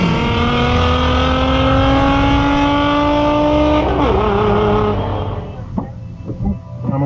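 Supercharged 650-horsepower Z06 Corvette at a drag race launch, a loud sustained engine roar with rising harmonic pitch that drops off abruptly after about five seconds into quieter rumbling and clatter.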